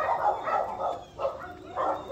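Several rescue ranch dogs bark in repeated bursts, fairly close, with yips and whimpers between the barks.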